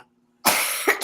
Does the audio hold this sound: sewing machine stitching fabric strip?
no